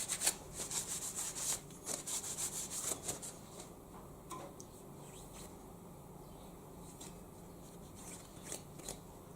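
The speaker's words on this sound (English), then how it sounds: "I'll just wipe those jaws off. With a not so clean piece of rag," Tissue wiping the jaws of a milling vice from Taiwan, a series of soft rubbing strokes at first, then quieter scattered scuffs and light taps close by.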